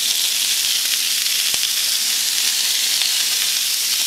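Peppers frying on a hot flat-top griddle while making a Shake Shack–style burger, giving a steady, loud, dense sizzle throughout, with one brief sharp scrape or tap midway.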